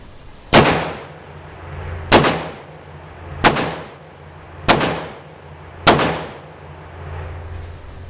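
Five heavy shots from an S&W 500 Magnum revolver firing a full cylinder of 500-grain rounds, spaced about a second and a half apart, each a loud close blast with a ringing decay.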